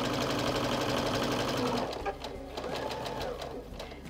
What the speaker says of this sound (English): Just concentrate on sewing nice and straight as you sew off the edge of the triangle.